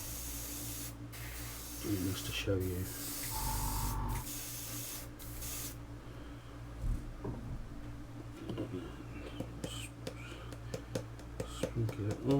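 Hissing bursts from a spray can coat the body of a Hyundai i20 WRC model kit, several sustained sprays between short pauses, with quiet talk and handling noises alongside.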